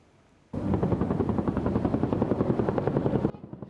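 An AH-1W SuperCobra attack helicopter flies fast toward a target area during a military exercise, its loud rotor chop pulsing steadily after a sudden start, then cutting off near the end.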